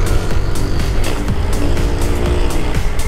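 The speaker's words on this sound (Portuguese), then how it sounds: "Tá cuspindo fogo pelo escape" Street motorcycle with a loud exhaust popping and backfiring, a steady engine roar broken by repeated sharp cracks at a fast irregular rhythm, close and loud, with no talk.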